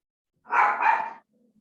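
A dog lets out one drawn-out, close bark that rises and dips in two lobes, then falls silent apart from faint low sounds.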